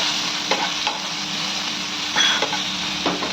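Crushed garlic and green chili thecha sizzles with onions in a hot pan, a steady frying hiss broken by several scraping stirs of a spoon.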